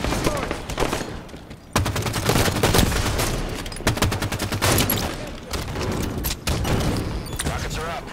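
Assault rifle fire from the shooter game Eden comes in repeated rapid bursts of loud, sharp shots separated by short pauses, with a voice talking faintly underneath.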